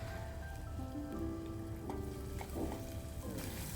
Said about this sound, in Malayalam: അതിലോട്ട് നമ്മൾ കട്ട് ചെയ്ത് വെച്ചിരിക്കുന്ന ഓണിയൻസും ആഡ് ചെയ്തിട്ട് നല്ലപോലെ സോട്ട് ചെയ്തെടുക്കണം.